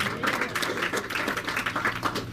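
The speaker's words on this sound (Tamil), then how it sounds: "கைத்தட்டி கர்த்தரை சோத்திரம்" Congregation clapping hands in praise at Chennai Elshaddai Church, a brisk, moderately loud patter of many hands from a crowd.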